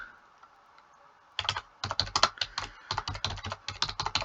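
Rapid typing on a computer keyboard while entering a name, with clicky keystrokes in quick bursts after a quiet opening, close and distinct with no talking.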